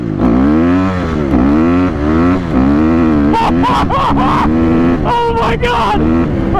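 A Honda CRF250R dirt bike accelerates at three-quarter throttle through the gears, its loud engine rising in pitch repeatedly with brief dips at each shift, close by, while a rider's excited voice breaks in.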